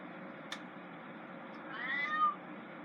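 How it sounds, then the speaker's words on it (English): A pet cat meows indoors, a drawn-out wavering call that rises and bends near the end of the moment, fairly close and clear over a quiet room hum. "I know why you're meowing, and I will let you out here in a little bit."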